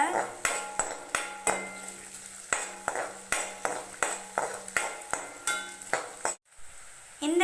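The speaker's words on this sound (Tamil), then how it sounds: "வெங்காயம் ஆட் பண்ணி நல்லா வதக்கி விடுங்க" Onions for lemon rice stirred in a pan, heard as a steady run of sharp utensil scrapes and clinks against the metal, about two per second, with a faint sizzle beneath and a brief dropout near the end.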